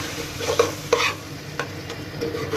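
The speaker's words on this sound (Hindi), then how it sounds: "इसको 2 मिनट तक मिक्स करेंगे तो सारा मसाला अच्छी तरीके से भून जाए" Spiced masala for a Tori Ki Sabzi (ridge gourd curry) sizzling in a pan while a spoon stirs it, with a few distinct scraping strokes over a steady close fry hiss.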